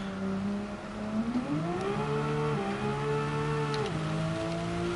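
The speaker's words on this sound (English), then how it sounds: "This car sounds fantastic." A race car in Gran Turismo 7 drives a wet track with standing water, its engine note climbing and dropping through gear changes, steady and fairly close, with no talking.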